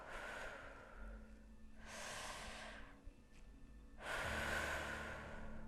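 Slow, deep breathing during a cardiac coherence relaxation exercise: three long airy breaths, each swelling and fading, the last one louder and closer, with no talking.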